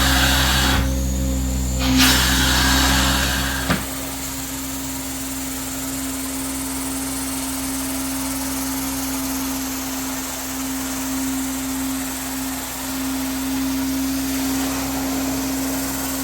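A carpet cleaning machine with a swivel wand drones steadily and loudly throughout, with a hard mechanical buzz. A brief louder burst of hiss near the start fades into a continuous motor hum.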